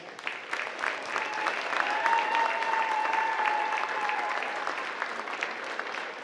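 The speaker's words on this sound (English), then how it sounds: "tonight with a huge round of applause" A large crowd at a high school basketball game claps steadily and loudly for several seconds, a dense continuous wash of applause with some cheering mixed in.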